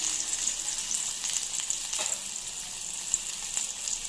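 Finely chopped onion and cumin sauté in oil in a pan, giving a continuous, fairly soft sizzle with a few faint stirring scrapes and no talk.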